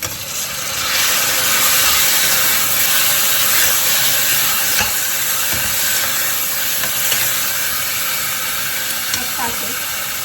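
Food fries in a pan for a Kannada home-cooked dish: a steady, bright hiss and sizzle runs continuously throughout, with faint clatters underneath.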